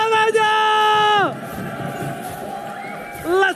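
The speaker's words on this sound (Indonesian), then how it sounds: "MPL Arena, mana tepuk tangannya?" A crowd at the MPL Indonesia Mobile Legends esports arena cheers and applauds loudly in a broad, sustained swell after a caster's excited shout, with a shouting voice returning at the end.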